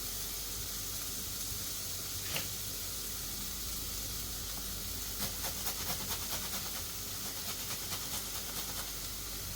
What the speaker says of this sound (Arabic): غادي نخلي هاد البصيله غير طيب غير في الملحه والزيت، وغادي نزيد عليها واحد طريس ديال الثومه، وغادي نخليها تشحر مزيان